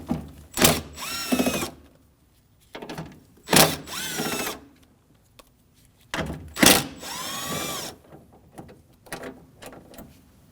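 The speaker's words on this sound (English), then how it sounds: "We can remove the 3 10mm bolts at the bottom of the regulator." A power tool unfastens three 10mm bolts at the bottom of a window regulator on a 2013-2015 Subaru, heard as three loud, close whirring bursts of about a second each with short quiet gaps between them.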